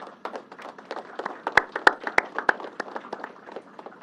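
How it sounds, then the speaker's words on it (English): Scattered, uneven clapping from a crowd of modest size at a governor's COVID-19 update, steady for a few seconds with several sharper claps standing out. "let's give them a double round of applause"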